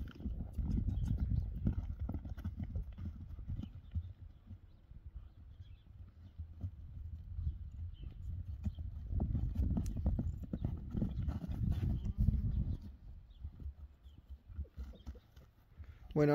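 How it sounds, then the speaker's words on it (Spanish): A gateado crossbred criollo horse walks, its hooves clip-clopping steadily and close by, with a brief whinny near the end and some faint voices in the background. "Caballito que se anda con un frenito coscojero."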